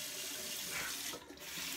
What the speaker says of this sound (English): have a quick rinse just to get some water on the face again